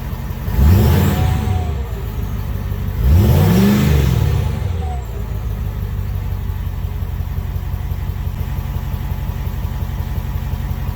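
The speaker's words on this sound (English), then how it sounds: "let me give it a little bit of a rev, and like I said, it's cold, so I don't want to be racing the thing" A 2022 Ford F-350 with the 6.7 Powerstroke diesel, cold, fitted with an AFE stainless 5-inch DPF-back exhaust, gets two short throttle blips that rise and fall in pitch, then settles into a steady, droning idle.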